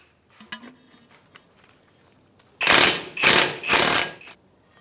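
An impact wrench hammers on a 14 mm ball joint pinch bolt on a 2007-2015 Mazda CX-9 in three loud rattling bursts, after some faint clinks of tools.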